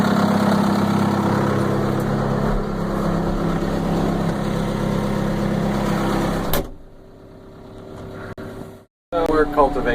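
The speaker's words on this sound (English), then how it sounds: "So let's get in the tractor and do the cultivating." A farm tractor engine runs steadily at a loud idle for several seconds with talk over it, then cuts out into near silence before noise briefly returns.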